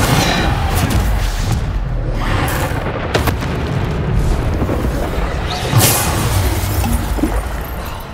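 Bombarda blasting spells explode in Hogwarts Legacy, with loud, continuous rumbling booms and sharp crashes piling up over dense battle noise for several seconds.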